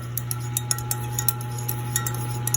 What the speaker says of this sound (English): So let's just stir a little to make sure there are no more lumps.